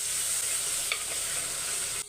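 A spoon scrapes and stirs rice with yogurt in a hot pan, with steady sizzling frying underneath, close up.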